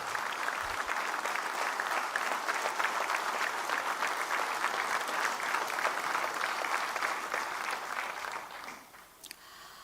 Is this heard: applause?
yes